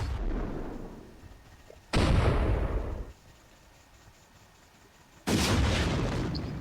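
Two sudden loud blasts in the video game Roblox World of Trollge, each a sharp onset followed by a decaying rumble, separated by a quieter stretch of low background noise.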